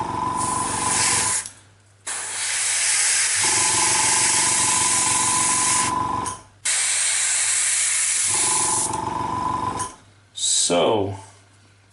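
An airbrush spraying paint onto miniatures for an Angmar army, with long steady bursts of airy hiss that cut off briefly and restart several times, and a low compressor hum running beneath.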